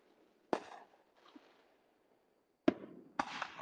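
Backyard firework mortars going off in Tennessee: two sharp, loud bangs with crackling tails, separated by quiet gaps, followed by a third burst near the end.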